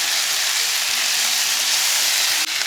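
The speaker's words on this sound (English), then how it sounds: "So this is julienne-cut carrot. 1 carrot goes inside. Okay, so let's give this another stir for like a good minute." Julienne carrots stir-frying for chicken chow mein, with a loud, constant sizzle and a regular tapping of the utensil against the pan throughout.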